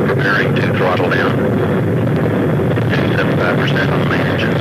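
Space Shuttle Challenger's main engines roar through launch ascent on the STS 41-B mission, a loud, steady broadband rumble that runs the whole time beneath a voice calling out the flight.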